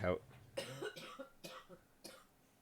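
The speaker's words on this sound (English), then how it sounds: "She's coughing" A woman with a cold coughs a few times in short bursts, fairly quiet and close, with a bit of throat clearing between.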